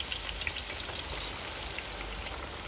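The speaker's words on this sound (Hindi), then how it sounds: "तेल गरम हो गया हमारा, अब हम प्याज डालेंगे" Steady, dense sizzling and crackling of about 1.5 kg of finely chopped onions frying in hot oil, close up and continuous, with no voices.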